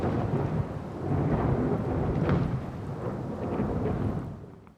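Heavy rain pours steadily at night while deep thunder rumbles and rolls beneath it, swelling and fading before the sound trails off.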